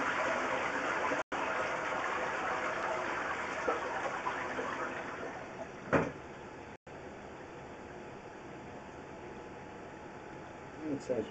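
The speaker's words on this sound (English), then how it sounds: "Another flush test." Toilet flush test during a drain blockage job at a house: a steady, full rush of flowing water fills the clip, with a few brief knocks and gurgles partway through.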